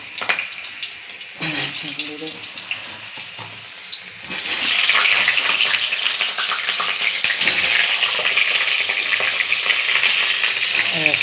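Potatoes hit hot oil and a loud, continuous sizzle takes over, with some stirring and clinking; quieter frying precedes it.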